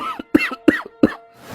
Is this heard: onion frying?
no